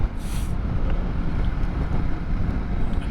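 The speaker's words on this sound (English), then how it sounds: "It's pretty windy, so I'll be interested to see" Heavy wind buffeting a helmet or body-mounted microphone on a motorcycle riding a Dutch motorway on a windy day, a loud, constant low rumble with no talk.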